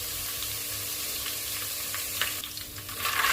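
Green chillies, curry leaves, dried chillies, peanuts, chana dal, turmeric and asafoetida sizzle in hot oil for a chooda snack. The frying is soft and steady, with some stirring near the end and no voices.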